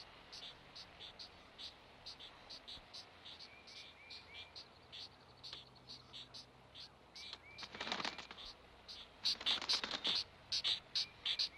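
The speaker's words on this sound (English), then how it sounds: "Young pileated woodpeckers beg for food at their nest hole high-rise." Young pileated woodpecker chicks beg for food at their nest hole in a Shenandoah spring forest, a rapid series of faint, high, scratchy calls repeating in short bursts, growing louder and busier toward the end.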